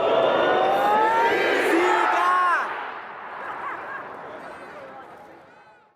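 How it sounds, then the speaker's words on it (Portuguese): A Brazilian crowd in stadium stands booing and shouting, a loud dense roar of voices with whistles and yells that fades and thins out over the final seconds. "os brasileiros na arquibancada vaiavam e gritavam"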